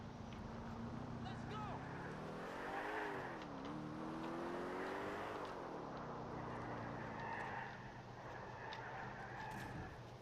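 A Moskvich 408 police car driving in Grand Theft Auto IV, its engine a steady droning hum that rises and falls in pitch as it speeds up and eases off, with a voice talking underneath.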